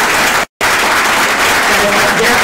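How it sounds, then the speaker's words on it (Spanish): An audience applauds loudly and continuously at a live-streamed event in Ecuador, with one brief cut in the middle. "Pido un fuerte aplauso, por favor."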